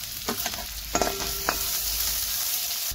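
Onion goes into a ginger, garlic and chilli paste frying in a pan, giving a steady close sizzle with a few stirring clatters and scrapes near the start.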